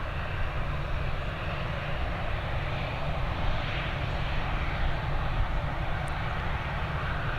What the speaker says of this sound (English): We've got this ATR up and away.